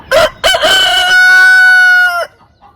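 A rooster crows loudly and close, two short opening notes followed by a long drawn-out call that cuts off sharply.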